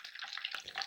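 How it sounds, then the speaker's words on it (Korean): Butter boiling and browning in a pot for financiers, a soft close crackle of small bubbling pops with a brief louder spatter partway through. "우유 고형분들이 갈색으로 변하기 시작하고 이제 끓는 소리가 점점 잦아들기 시작하면 온도를 틈틈이 확인해 주세요."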